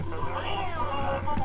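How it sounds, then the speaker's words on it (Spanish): Cats meow in a video game about running over cats, with several wavering, overlapping cries above a constant game background hum. "Estoy atropellando gatitos"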